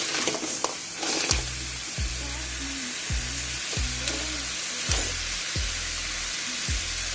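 Pithala curry cooking in a pan on low flame, a steady broadband sizzle and hiss running throughout with a few soft clinks, close and alone.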